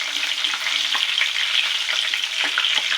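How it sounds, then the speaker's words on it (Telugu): Anchovies and curry leaves fry in hot oil with a bright, dense crackling sizzle and quick popping spatters, loud and close throughout, without any voice. "రెండు కరివేపాకు రెమ్మలు కూడా ఇందులో ఫ్రై చేసుకుందాం"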